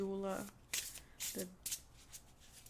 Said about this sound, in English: I'm going to pull one card from this other deck